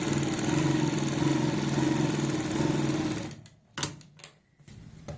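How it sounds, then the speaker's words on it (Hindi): An electric sewing machine stitches a folded fabric edge on a salwar, a fast, even, close mechanical whirr for about three seconds, then stopping with a few short clicks and handling noises afterward. "इस तरीके से हम यहाँ पे फोल्ड करके सिलाई लगाएंगे।"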